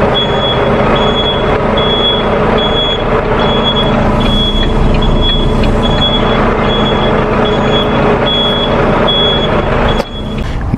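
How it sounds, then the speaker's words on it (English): Semi truck backing a trailer into a parking spot, reversing alarm beeping steadily and loudly over a deep diesel engine rumble, ending with a short hiss near the close. "I love when I can pop these trailers in with one backup, no pull-ups."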